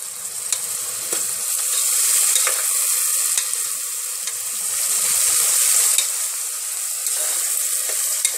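Chopped onion, tomato and mint frying in a pan for mutton head curry, a steady close sizzle that swells and eases, punctuated by occasional clicks and scrapes of a stirring spoon.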